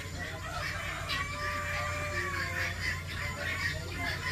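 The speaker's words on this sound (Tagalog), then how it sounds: "Daming manok." Chickens clucking on a farm yard, several hens and fowl calling in overlapping bursts over a steady noisy background, fairly close and continuous.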